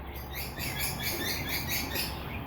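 Many small birds chirping and twittering outdoors in a rapid, overlapping chorus; high, repeated tweets carry steadily over a low background rumble, with no talking.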